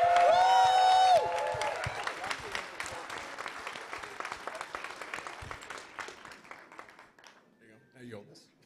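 A crowd claps and applauds steadily after a loud cheer or tone at the start, at Creator Clash 2 boxing weigh-ins, the clapping thinning and fading toward the end.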